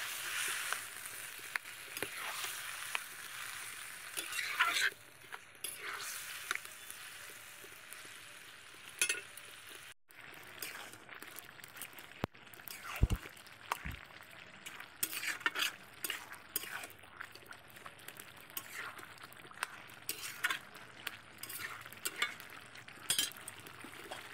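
Shredded cabbage cooking in a pan with a little added water, a soft simmering sizzle under irregular spoon scrapes and stirring knocks, close and fairly quiet throughout.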